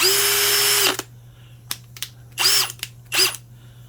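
A DCK brushless 1/2-inch hammer drill whirs steadily for about a second, then stops; three more short bursts follow, two of them longer revving pulses, close and loud.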